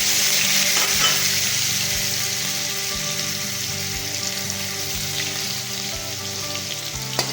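Onions sizzle in oil left over from frying boriola fish for a curry, a constant close hiss with faint regular ticks and a low background hum, without speech.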